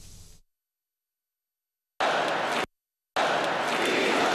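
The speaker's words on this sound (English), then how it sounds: "when they all started chanting, we love Joe, or whatever it was" A large political convention crowd chants in unison. The loud, dense roar of many voices comes in two sustained bursts that are cut apart by stretches of silence.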